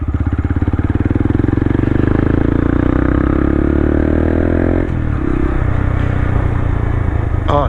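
A Honda Grom motorcycle on street tires rides off road, its small engine buzzing loud and close with a steady throb that drops in pitch midway, with clatter and a brief scrape near the end.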